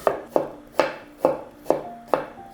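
Six sharp knife chops through an onion on a cutting board, evenly spaced at a steady, unhurried rhythm, close and clear with no talking.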